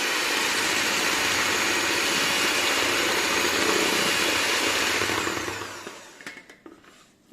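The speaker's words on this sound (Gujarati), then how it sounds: "તો મારી આગળ બીટર છે, તો બીટરનો ઉપયોગ કરીને બીટરને મારું છું." An electric hand beater whips a homemade ice cream mixture, running as a steady close whir for about six seconds before slowing and cutting out, leaving a few faint clatters at the end.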